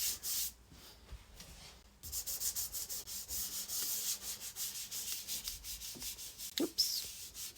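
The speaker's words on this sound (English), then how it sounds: "I'm rubbing really hard." Soft pastel stick rubbed hard across paper while layering a fruit study, giving a close, steady scratchy rasp in repeated short strokes with a brief pause near the start.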